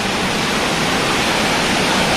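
Chirchiri waterfall pours in a steady, broadband rush at low water, loud and unbroken throughout, with no voices.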